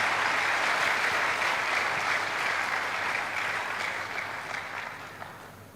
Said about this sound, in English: I think the candidates all deserve a rousing round of applause.